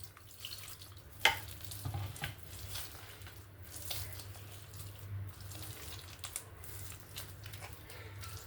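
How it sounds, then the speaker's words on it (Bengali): Bare hands mashing palm fruit seeds with water for palm fritters: quiet, wet squelching and squishing, with one sharper splash near the start, all fairly close and soft. "এরকম জল দিয়ে দিয়ে আটিগুলোকে একটু নরম করে নিতে হবে"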